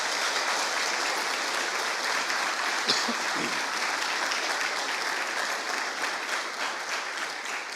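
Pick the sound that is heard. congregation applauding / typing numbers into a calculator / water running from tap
congregation applauding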